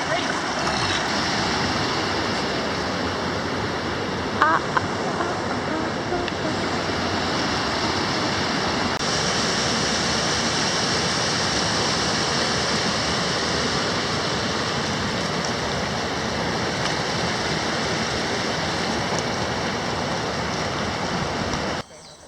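Kiewa River water flowing in a steady, broad rushing wash, close and continuous for the whole stretch, with no pauses and only a brief knock partway through.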